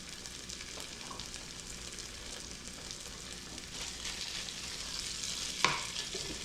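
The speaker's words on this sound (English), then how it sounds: "let this cook a little bit till the onions get a little bit translucent" Onions and mushrooms fry in a pan with a steady, quiet sizzle. Faint stirring scrapes come through, and one sharp clack sounds near the end.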